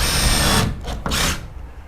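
An X-Line20 2-in-1 drill bit and screwdriver set drills a pilot hole. A close, loud motor whir runs steadily, then breaks into a few short revving bursts before winding down.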